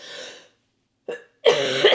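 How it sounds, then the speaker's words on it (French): A couple of harsh coughs with a short silent gap, ending in a longer rough throat-clearing burst, close and fairly loud. "L'avantage de tousser, c'est que ça me donne chaud."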